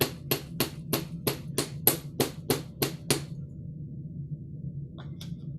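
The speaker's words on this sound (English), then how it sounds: "I'm going to hammer it down here." A wire pin is hammered on a block: about ten sharp, evenly spaced metallic taps in a steady rhythm, close and clear, followed by quiet with a couple of faint light clicks.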